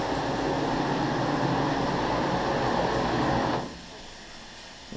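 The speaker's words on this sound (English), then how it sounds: "We've now got the jets running, so that's operating nicely." Spa bath water jets run as a steady, loud churning rush of water and air, then cut off abruptly near the end, leaving a quieter hum.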